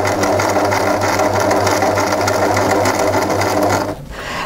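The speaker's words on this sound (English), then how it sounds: "So just sew till you get almost to the other part of your, to the other side of your neckline." Sewing machine stitching a jersey pajama neckline, a loud, fast, steady mechanical hum and rapid needle chatter that runs continuously and then stops near the end, with no one talking.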